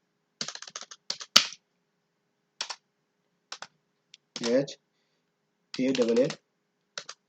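Keystrokes on a computer keyboard come in short bursts of clicks between pauses while someone speaks in between, close and moderately loud.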